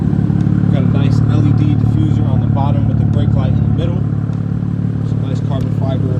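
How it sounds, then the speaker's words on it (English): A BMW M4 F82 with a straight-piped AWE non-resonated track exhaust and stage 2 tune idles with a steady, deep rumble beneath someone talking up close. "you can hear that exhaust purring."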